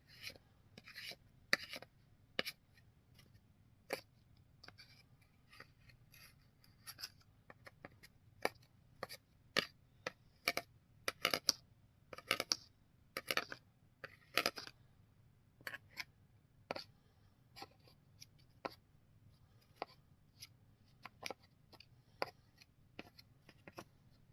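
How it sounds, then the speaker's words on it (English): Debris is scraped off a chainsaw into a garbage bin, a quiet, close series of irregular sharp scratches and clicks in uneven bursts over a near-silent background. "So I'm just scraping everything into the garbage here."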